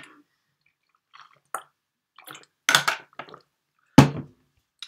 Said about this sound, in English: I'm just going to drink some water now.